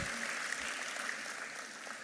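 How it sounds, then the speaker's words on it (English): Applause fills a large event hall as an audience of about 4,000 colleagues claps at a corporate celebration, a steady, dense wash of clapping that holds at even loudness throughout. "Big round of applause for your colleagues and for yourself"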